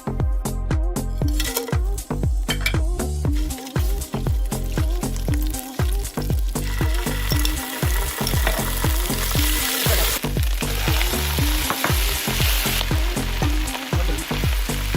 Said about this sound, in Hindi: जिस तेल में हमने किए थे प्याज फ्राई, उसी तेल में हम डालेंगे थोड़ा सा अदरक लहसुन का पेस्ट और साथ में कुछ खड़े मसाले